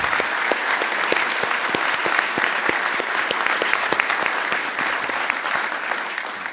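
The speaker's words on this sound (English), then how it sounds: "Let's give our officers a big round of applause." Thick, continuous applause from an audience honoring police officers at an awards ceremony, with a few sharper nearby claps standing out from the steady wash of sound.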